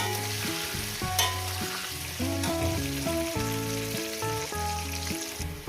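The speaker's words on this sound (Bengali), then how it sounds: "আমার আলুগুলো সুন্দর করে ভেজে নিয়েছি" Potatoes fry in hot oil for a Bengali chicken curry, a steady sizzle running throughout beneath louder background music.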